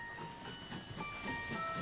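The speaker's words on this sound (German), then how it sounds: "Kirchner will der Hölle entkommen, vielleicht mit dem Zug, der über die Brücke rast." A train rushes over a bridge with a steady rolling rumble and a rhythmic clickety-clack of wheels that repeats at a quick, even pace.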